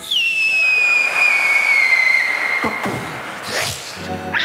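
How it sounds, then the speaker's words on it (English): Fireworks sound effect: a long descending whistle streaks loud across most of the clip, then bursts and crackles erupt near the end, alone without any talk. "They do fireworks for weddings."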